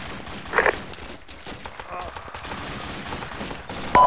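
Gunfire in a video game battle along a ridge, with a sharp close shot early and another near the end over a steady bed of distant shooting and battle noise, while someone talks over it.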